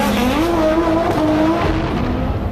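An Audi RS3 LMS race car engine roars loud and close, its pitch rising and falling in quick revs before easing off near the end.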